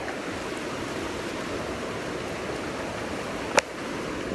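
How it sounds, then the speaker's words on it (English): Cold stream water rushes steadily around bare feet in the Kings Canyon and Sequoia forest, a constant broadband wash with one brief sharp splash near the end. "This water feels amazing on my feet."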